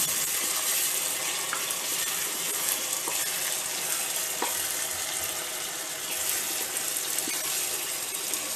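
Chopped tomatoes fry with ginger, garlic and green chilli paste, giving a constant dense close-up sizzle with faint occasional taps of a spoon and no talking.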